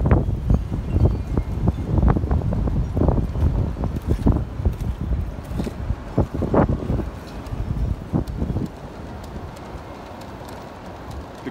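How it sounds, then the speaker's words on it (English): Strong outdoor wind buffets the microphone in loud, irregular gusts, dying down to a steadier whoosh toward the end. "Really, really windy."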